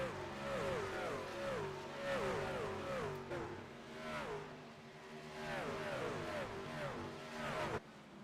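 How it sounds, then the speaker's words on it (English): Racing trucks of the ORRL Truck Series scream around a track at full speed, engines rising and falling in repeated sweeping pitch swells as they pass, loud and continuous with no talk. "hearing those trucks here at full song ripping around the track"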